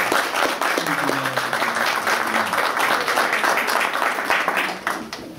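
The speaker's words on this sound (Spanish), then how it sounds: "Y también un gran aplauso para todos ustedes quienes han recibido." Audience applause at a graduation diploma ceremony: a dense, steady wash of clapping from a crowd, loud and sustained for several seconds before tapering slightly at the end, with faint voices underneath.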